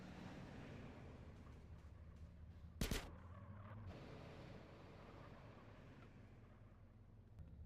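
Video-game gunfire, a single sharp loud burst of shots near the middle over a low steady game background hum.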